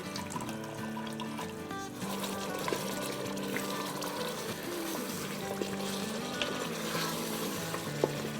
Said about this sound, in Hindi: इन मसालों को भी हम उन मसालों की तरह 1-1 टेबलस्पून पानी डाल के भूनते जाएंगे और 5 मिनट तक भूनेंगे